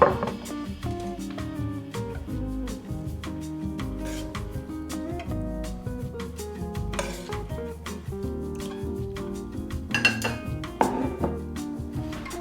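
Beef stroganoff being plated, with dishes and cutlery clinking and scraping lightly at close range over a steady musical bed, including a few sharper knocks.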